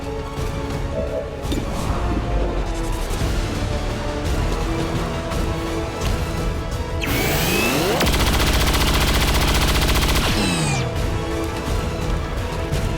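Rapid bursts of gunfire from the XCOM 2 video game, loud and continuous, with a sweeping high-pitched weapon effect midway through the barrage.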